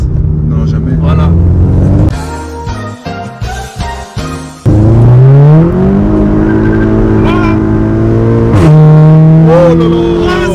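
A tuned stage 2+ Volkswagen Golf GTI accelerates hard with wheelspin, its engine revving loudly and climbing in pitch through quick gear changes, heard up close with people talking over it.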